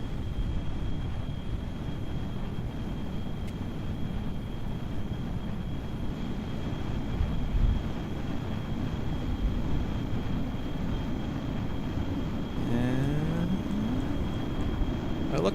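A space plane in Kerbal Space Program gives a loud, steady engine roar as it climbs, a continuous close rumble with a brief rising whine near the end.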